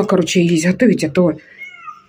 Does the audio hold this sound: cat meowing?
yes